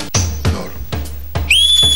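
A woman whistles several short rising and falling notes, alone and close, ending on a long steady high tone.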